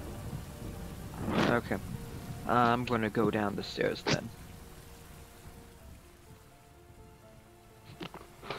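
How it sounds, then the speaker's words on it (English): Steady rain as a sound effect during a Dungeons & Dragons tabletop game, a soft hiss running continuously under a person speaking and gradually thinning toward the end. "Noise of rain kind of fades as you leave the open air area hallway and head down."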